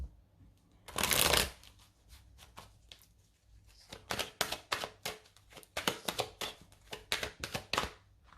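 Rider-Waite tarot cards being shuffled up close, a long dense riffle burst near the start followed by a run of quick, crisp card flicks and taps in an irregular rhythm, with no talking.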